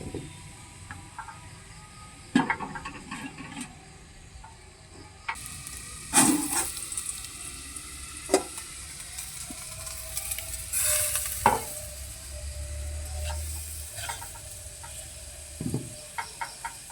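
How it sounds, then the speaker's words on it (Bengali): Potatoes and carrots cooking under a lid in a pan for a flattened-rice pulao, a steady soft sizzle broken by a few sharp clinks and scrapes of a utensil, with no talking. "এখন ঢাকা দিয়ে আলু আর গাজর সিদ্ধ করে নেব।"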